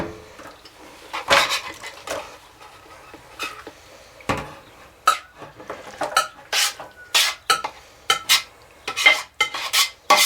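Beef mixture is scraped and spooned into a 9x13 pan for a cowboy cornbread casserole: repeated clanks and scrapes of metal utensils against cookware, irregular and close, with no talking.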